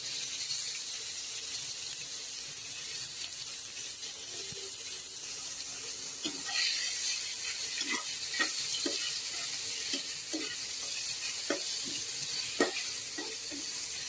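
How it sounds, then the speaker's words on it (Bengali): Raw mango pieces fry in spiced oil with a steady, soft sizzle, while a utensil scrapes and taps against the pan at irregular intervals in the second half. "এবার এর মধ্যে কাঁচা আমগুলো আমি দিয়ে ফ্রাই করে নেব"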